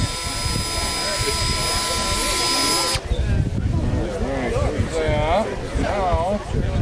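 A drill countersinks a hole, its high steady whine running for about three seconds, then stopping as voices take over and talk continues in the background.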